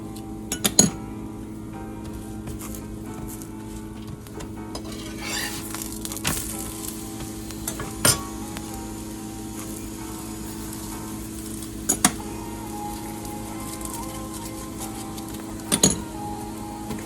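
Paneer paratha fries in ghee on a pan with a steady low sizzle running throughout, broken by a few sharp clinks and taps of a utensil against the pan.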